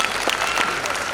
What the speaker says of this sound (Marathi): कलेक्टर साहेबासाठी टाळ्या वाजवा.